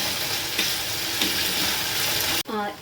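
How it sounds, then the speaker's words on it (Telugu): Onions and curry leaves fry in a pan for a cucumber chicken curry, a steady close sizzle with small scraping stirs throughout and a brief splash-like hiss near the end. "ఈ ఉల్లిపాయలు వేసిన తర్వాత మనం ఇలా కరివేపాకు వేయాలండి"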